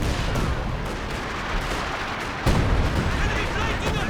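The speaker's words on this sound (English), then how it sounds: "Major's artillery clears off the LEIG" Artillery fire in the World War II strategy game Company of Heroes 2, a dense continuous wash of battle noise with booming impacts and one sharper blast midway, loud and steady throughout.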